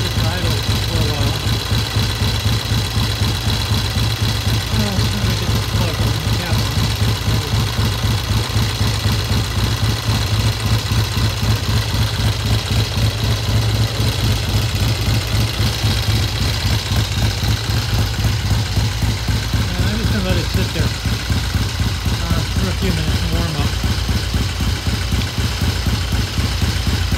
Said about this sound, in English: I'm going to let it sit here and just idle for a while.